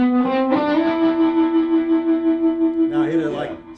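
Electric guitar through a Quilter Tone Block 200 head with tremolo and reverb: a sustained chord pulses in a steady wavering rhythm, then a brighter strum near the end, loud and close with a reverb tail.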